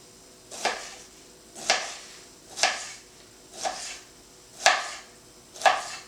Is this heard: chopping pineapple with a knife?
yes